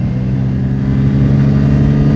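Bajaj Pulsar N250 motorcycle accelerating hard in a drag race, a loud, steady engine drone held close for the whole stretch with no break.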